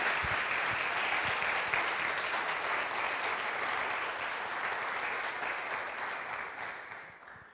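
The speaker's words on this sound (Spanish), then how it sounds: "Dele un aplauso al Señor." A church congregation breaks into sustained, dense applause, loud and even throughout before tapering slightly at the end, with no speech over it.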